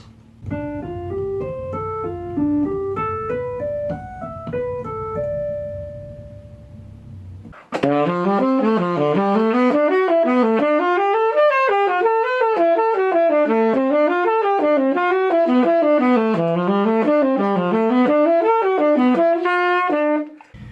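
A pentatonic scale phrase is played on a melodic instrument, a few rising notes first, then a long run of notes climbing and falling without a break.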